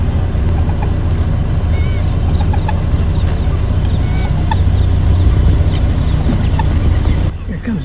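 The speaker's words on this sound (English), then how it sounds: "Don't know if you guys can hear all the noises these birds are making." Many birds squawk and honk in a noisy chorus over a low, steady rumble from a vehicle on a wildlife drive, with scattered calls near and far.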